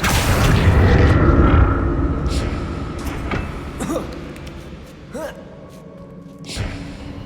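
A Confringo spell exploding in Hogwarts Legacy: a loud, rumbling blast opens and fades over a few seconds, followed by fainter magical whooshes and chimes.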